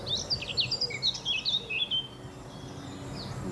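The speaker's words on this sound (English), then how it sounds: "Just heard a blackcap singing." A male blackcap sings a quick, bright warbling phrase of rich chirps and whistles for about two seconds, moderately near over soft outdoor background noise at a nature reserve, then falls quiet.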